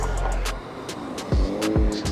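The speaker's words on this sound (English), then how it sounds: "My boy dropped the clutch" A street drifter's motorcycle launches with the clutch dropped: a loud, close engine blares, then cuts out and fires two sharp revving sweeps in quick succession.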